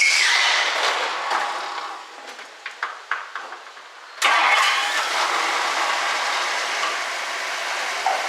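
Engine of a 1964 Ford Thunderbird cranking with a few sputtering turns, then catching with a sudden roar and settling into a steady close-up idle, no talking.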